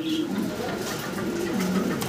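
African Owl pigeons coo in low, rolling calls, close and continuous, with soft background noise.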